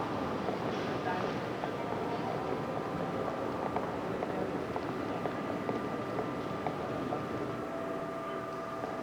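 A TGV train rumbles steadily in a station with a continuous dense roar and a faint tonal hum, while a public-address announcement speaks over it.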